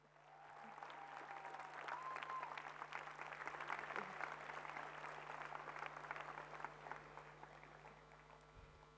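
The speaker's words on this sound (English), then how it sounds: "Please give them another round of applause" An audience at a 2019 high school graduation applauds, a sustained, fairly distant wash of many hands clapping at even strength for several seconds, fading slightly near the end.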